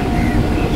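A train rumbles loudly and continuously as it pulls into Nialipur station, a close, heavy roar of rail noise with wind buffeting.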